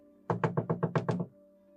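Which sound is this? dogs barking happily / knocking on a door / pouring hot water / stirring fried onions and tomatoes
knocking on a door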